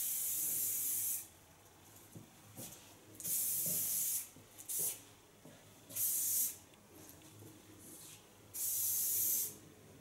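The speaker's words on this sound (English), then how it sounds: "Fine hairspray of Lanza," Lanza ultra-soft fine hairspray misted onto a layered hairstyle in four separate bursts of bright hissing spray, each about a second long, with quiet salon handling sounds between them.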